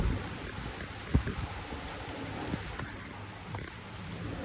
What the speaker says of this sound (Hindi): अचानक से बात करते करते देखिए आसमान भी रो पड़ा और बरसात भी होने लगी।